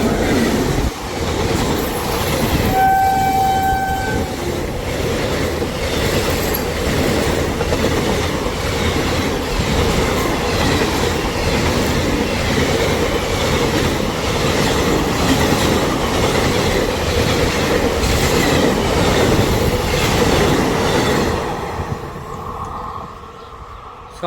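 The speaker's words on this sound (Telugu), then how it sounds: "ట్రైన్ అయితే కరెక్ట్గా వచ్చింది" A train rumbles past near an old railway bridge at Mallanur, Kuppam, loud and close with steady clickety-clack of wheels on rails, a brief horn early on, and a long continuous roar that fades near the end.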